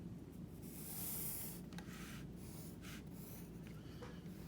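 Pen or pencil tracing a line onto paper, a quiet scratchy rubbing with a few short strokes, close and faint against a low background hum.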